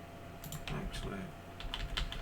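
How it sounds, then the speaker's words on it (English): Computer keyboard typing during a 3ds Max modeling session: a quick run of soft clicking keystrokes in uneven bursts, close and moderately loud, with no talk. "Hit 1 on the keyboard."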